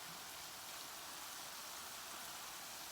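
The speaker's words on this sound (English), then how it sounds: "it is raining outside hard" Heavy rain falls outside, a faint, steady hiss with no breaks and no voices.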